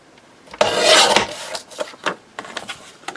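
Paper being trimmed for a ring bound journal, one long scraping cut followed by several short, crisp snips and rubs, close and fairly loud with no talking.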